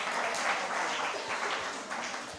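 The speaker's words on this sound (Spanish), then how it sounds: "denle otro aplauso pues ahora sí al Señor" Audience applause at a Spanish-language church service, a steady wash of clapping that stays loud for the whole stretch with small swells and no voices above it.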